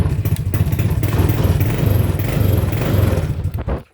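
TrailMaster 300 XRS go-kart engine with the choke disconnected, cranking and catching into a loud, chugging idle heard up close for a few seconds before it cuts off abruptly.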